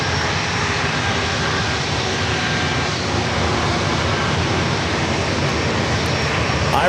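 A Navy aircraft's engines roar steadily and loudly at San Diego airport, a continuous broad wash of jet noise that holds without a break.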